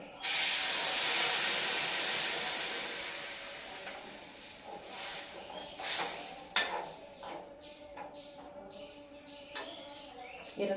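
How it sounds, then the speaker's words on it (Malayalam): Loud steady hiss of steam as boiling water hits a pan, fading gradually and then broken by scattered clinks and small knocks. "തിളച്ച വെള്ളമാണ്"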